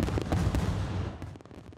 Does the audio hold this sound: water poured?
no